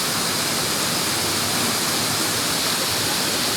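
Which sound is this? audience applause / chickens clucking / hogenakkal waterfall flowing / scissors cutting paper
hogenakkal waterfall flowing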